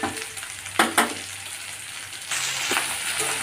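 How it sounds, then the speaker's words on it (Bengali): Lote fish (Bombay duck) cooks with salt, turmeric, chilli powder and garam masala in a pan, a close frying sizzle broken by two sharp utensil clinks, then a louder, steadier hiss with further stirring scrapes. "এবার এটা কষিয়ে নিই।"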